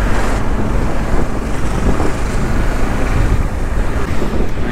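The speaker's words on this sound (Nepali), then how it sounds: "खोला पनि पुरै बाढी छ" A loud, steady roar of a flooded river rushing after heavy rain fills the clip, broad and unbroken, with wind buffeting the microphone and no voices.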